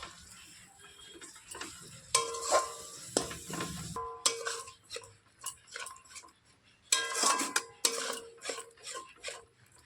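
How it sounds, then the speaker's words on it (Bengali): Ground coriander leaf paste for pickle is stirred in a pan, with bursts of spoon scraping and metal clinks coming in irregular clusters, close by, separated by short quiet gaps. "এবার নাড়াচাড়া করে মিশিয়ে নেব।"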